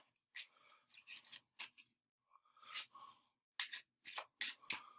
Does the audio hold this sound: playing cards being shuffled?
yes